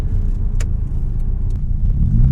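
Fiat Cinquecento 1.1 Sporting exhaust while driving: a steady low engine drone and road rumble fill the cabin throughout, with a slight rise in pitch near the end and a few faint clicks, no talking.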